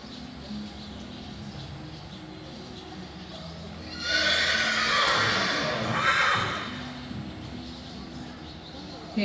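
A saddle seat horse whinnies loudly and at length during a walking class against a steady background hum, with faint hoof sounds and no talking.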